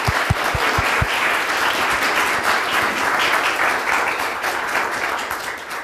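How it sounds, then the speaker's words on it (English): A closing-ceremony audience gives a sustained round of applause, dense steady clapping throughout, with a few loud close claps at the start. "a round of applause for everyone"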